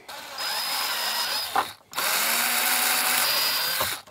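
A power drill bores larger holes into a damaged Commodore 64 case in two close, loud, sustained runs, with a brief pause between them.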